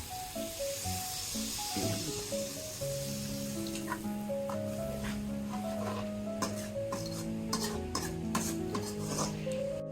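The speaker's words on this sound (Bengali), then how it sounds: "তরকারিতে জল দিয়ে দিচ্ছে।" Vegetable curry with fried potatoes and cauliflower being stirred in a pot right after water is added, a steady scraping and sloshing under continuous background music.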